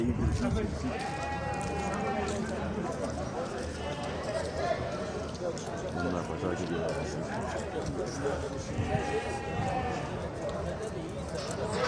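Lambs bleat a few times over a dense, steady din of crowd chatter and movement at a busy livestock market in Çayırbağ, Afyon, Turkey.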